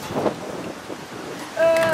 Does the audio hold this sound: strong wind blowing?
yes